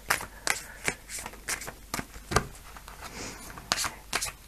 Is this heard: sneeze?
no